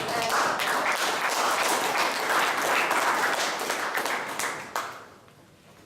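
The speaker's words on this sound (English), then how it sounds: "let's give a round of applause for Esther." Audience applause at a Toastmasters club meeting, dense steady clapping from a room of people that holds for about five seconds, then thins and fades out near the end.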